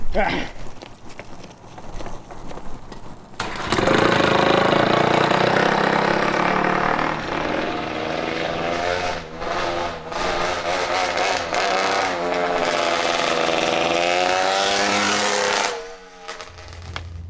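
A 250cc mini quad's engine starts up and runs loudly and steadily up close before it cuts out. People talk briefly around the start.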